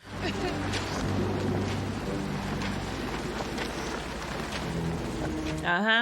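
Rain in a dramatic movie scene, a steady dense hiss of downpour under music and film sound, loud and continuous, with a brief rising tone near the end.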